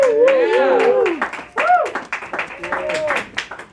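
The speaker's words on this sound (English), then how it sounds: "How about a round of applause for his reading so far?" A small audience applauds a reading at an intimate open-mic gathering, with scattered, uneven claps mixed with loud voices and cheering.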